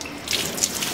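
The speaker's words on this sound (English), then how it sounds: "what I can do is I can rinse my plate" Tap water runs steadily over a metal intaglio etching plate as it is rinsed clean with plain water, giving a continuous close splashing hiss.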